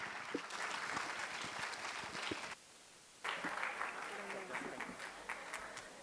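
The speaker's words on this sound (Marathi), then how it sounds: "याच टाळ्या वाजत राहिल्या पाहिजेत" Applause from the audience at an environmental conference in Solapur, a broad sustained clatter of many hands heard from within the hall, briefly dipping to near silence midway before surging back and continuing.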